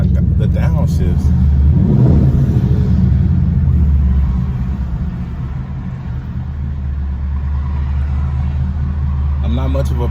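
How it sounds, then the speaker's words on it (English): A straight-piped Camaro 2SS exhaust rumbles deep and loud from inside the car, swelling and burbling through downshifts on the way to a highway, then settling to a steady drone. "Oh my God, the downshifts."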